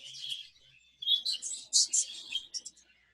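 Budgies twittering and chirping in short, bright bursts, several overlapping calls in quick succession after a brief quieter start, fairly close and alone without talk.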